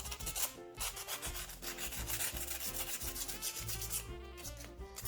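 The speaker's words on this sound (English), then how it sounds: "so I'm just using my nail file" A nail file rasps back and forth over the rough edges of a handmade faux popsicle ornament, steady close-up scraping strokes in a continuous rhythm with no talking.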